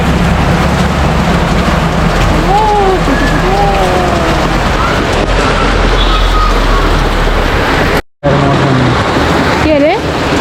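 Heavy rain drumming outdoors in Kathmandu near Boudha, a loud steady wash close by, with traffic noise beneath and voices speaking intermittently over it.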